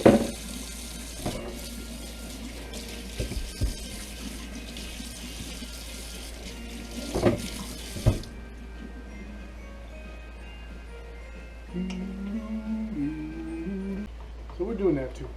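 A kitchen sink tap runs during cleanup while cooking caldereta, a steady water rush with clatter of dishes, then cuts off partway as a person talks in the quieter room.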